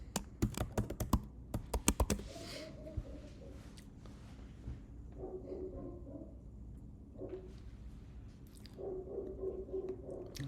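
Rapid keystrokes clatter on a Mac computer keyboard as a password is typed, a quick burst of close, sharp taps up front, then softer scattered clicks under quiet room noise.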